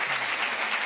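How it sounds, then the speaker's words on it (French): Studio audience applause on a French TV show, a steady wash of many hands clapping at even, moderate loudness with no voices over it. "j'ai envie de vous applaudir"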